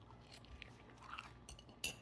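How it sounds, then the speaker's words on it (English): A couple of crisp crunchy bites into syrup-dipped French toast, close and fairly quiet, with a sharper crunch near the end. "Listen to that crunch."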